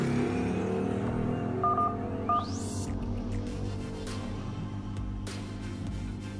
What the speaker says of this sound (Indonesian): Kita akan coba panggilan operator.